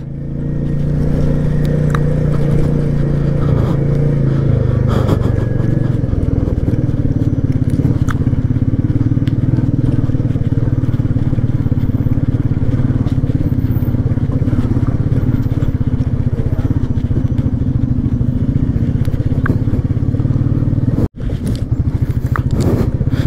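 A motorcycle rides along a sandy dirt road through hilly country, its engine and wind noise forming a loud, continuous rumble that barely changes throughout the ride.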